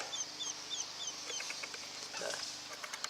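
Farmyard chickens with hen-raised chicks clucking and peeping nearby, short chirps and clucks scattered over a soft background with a faint voice underneath.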